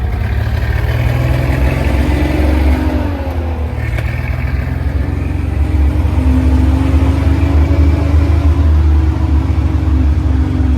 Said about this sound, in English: Second gear. Third gear.